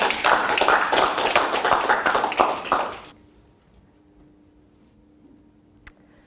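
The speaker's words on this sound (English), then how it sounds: "So, please, give me a huge round of applause." A live talk audience applauds loudly with dense clapping for about three seconds, then it cuts off to near quiet with one faint tap.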